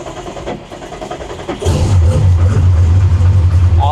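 A Porsche GT2 RS, recently crashed and under restoration, cranks and catches halfway through, then settles into a loud, steady, low idle rumble close by after a quieter stretch of background sound.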